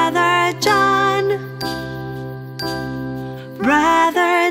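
Jingling bells ring in a children's lullaby, bright tinkling tones that come in several short bursts over a sustained musical backing.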